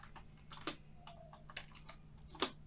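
Typing a prompt on a computer keyboard, a short run of crisp, irregular key clicks with a few louder taps, close and alone over a faint hum.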